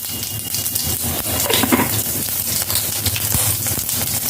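Whole cumin seeds crackle and sizzle steadily in hot oil in a kadai, a close, dense hiss with scattered pops for several seconds and no talking.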